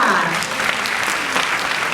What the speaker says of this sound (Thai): ขอเชิญปรบมือดังครั้งนึงค่ะ